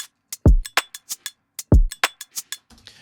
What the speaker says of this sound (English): I've got this little drum beat like this.